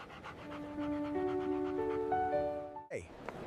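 A therapy dog pants in a rapid, even rhythm at an airport, with a rising chime of tones playing over it and ending in a short sharp sound.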